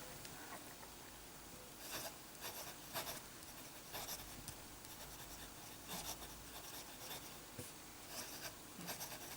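A fountain pen writing on paper in J. Herbin 1670 Bleu Océan ink, giving soft, close scratching strokes in short rhythmic bursts with brief pauses, quiet and alone.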